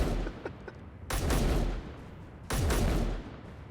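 Turret gunfire in the Space Engineers video game: two loud bursts of rapid shots, each lasting under a second, close and harsh, with a short gap between them.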